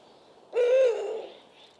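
A single deep, drawn-out hoot from a female Eurasian eagle-owl at dusk, fairly close and clear, rising slightly then fading, heard alone against a quiet background.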